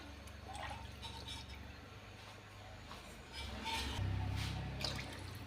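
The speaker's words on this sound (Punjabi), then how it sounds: "ਤੇ ਆਪਾਂ ਹੁਣ ਇਹਦੇ ਵਿੱਚ ਕਰ ਦਾਂਗੇ ਜੀ ਪਾਣੀ ਐਡ" Water is poured into a simmering drumstick pod (sahjan) curry, a quiet splash and drip that grows fuller and louder toward the end as the pan fills.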